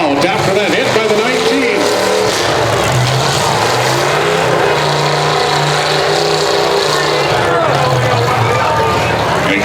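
Limited Weld pickup trucks race on a dirt oval at Thief River Falls in 2018, engines roaring steadily and loud throughout as a trackside announcer talks over the din.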